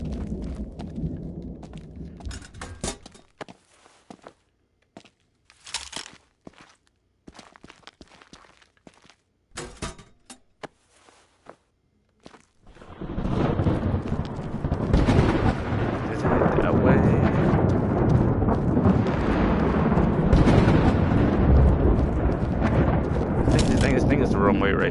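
Thunder in the video game Stray Souls: sparse, sharp cracks and rumbles over the first half, then a sustained loud roaring storm wash through the second half, with no talk.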